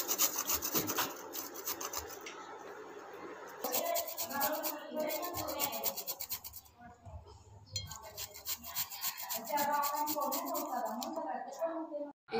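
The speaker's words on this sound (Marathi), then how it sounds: "आता आपण ही हळद किसून घेणार आहोत।" Fresh turmeric root being grated by hand, a close rhythmic rasping scrape in repeated strokes with short pauses, fairly faint and heard on its own.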